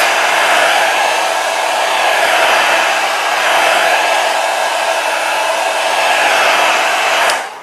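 A heat gun blows a steady, loud rush of hot air onto a Tab 4 tablet to loosen its broken touchpad, holding an even roar for about seven seconds before cutting off at the end.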